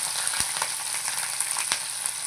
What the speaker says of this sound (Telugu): సో ఫైనల్గా పచ్చిమిరపకాయలు, ఇవి కొంచెం చిరపటలాడతాయి